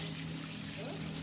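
A Wisconsin waterfall flows in a steady, even, hissing rush of water that fills the whole moment without pause.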